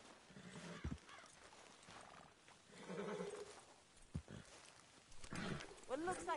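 Horse hooves clip-clopping in the Red Dead Redemption 2 video game, a few soft hoofbeats mixed with game ambience while people talk over them, with a brief whinny-like sound near the end.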